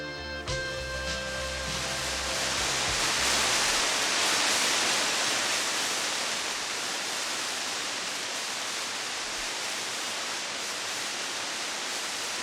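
Juwangsan's Third Waterfall in a Korean national park pours with a steady, dense roar of rushing water that fills the whole clip, after a few soft musical tones at the very start fade away.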